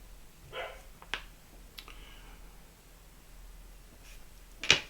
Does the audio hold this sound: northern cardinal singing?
no